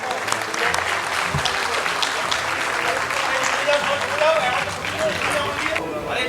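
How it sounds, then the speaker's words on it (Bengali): Steady crowd applause at a Bengali cinema award ceremony, broad and continuous, with murmured voices and a sustained tone mixed in beneath the clapping. "আমরা পৌঁছে যাব। হাততালিটা চলুক।"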